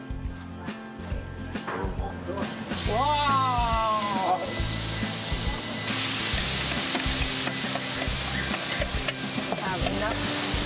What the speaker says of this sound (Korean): 기본적인 불고기 양념에 연육작용을 돕는 배와 양파를 더해 즉석에서 한국식 불고기를 만들어봤다